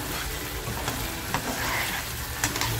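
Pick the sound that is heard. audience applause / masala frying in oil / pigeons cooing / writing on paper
masala frying in oil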